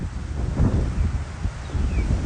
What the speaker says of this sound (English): Hold on, it's windy.